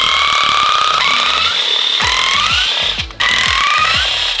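A power tool undoes 10mm ignition coil bolts on a supercharged Mini Cooper S, a loud whirring buzz that rises and falls in pitch through several bursts with a brief break between them, no talking.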